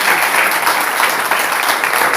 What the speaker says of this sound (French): Applaudissements pour le Seigneur.